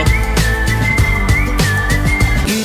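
Whistled melody from a song, a clear sustained tune over loud driving drums and bass in the music mix.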